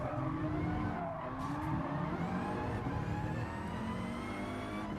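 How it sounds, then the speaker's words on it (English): Race car in Gran Turismo Sport at a Tourist Trophy event, a steady engine drone with tyres squealing as the car brakes hard, continuous and fairly close. "This is gonna be some hard braking."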